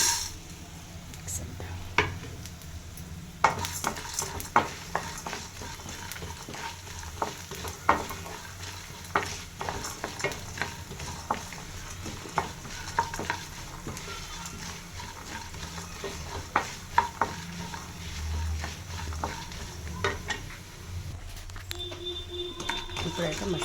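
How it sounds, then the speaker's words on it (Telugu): Masala with chickpeas fries in a pan for a chutney, with a continuous sizzle and repeated clinks and scrapes of a spoon stirring against the pan. A voice talks at times over the cooking. "ఇప్పుడైతే మసాలా కొంచెం వేగింది కదా"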